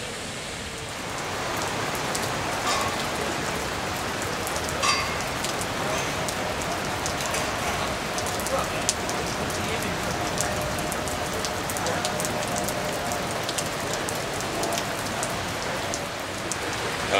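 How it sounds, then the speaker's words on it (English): Steady rain falls outdoors in the countryside, a dense even hiss of drops with occasional sharper patters, close and loud throughout, with no voices. "It looks like it's going to rain in a minute."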